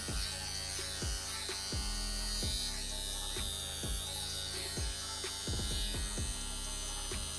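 Tattoo machine running on an Inkclaw wireless power supply, giving a continuous close mechanical buzz with a steady hum and faint periodic clicks, no talking.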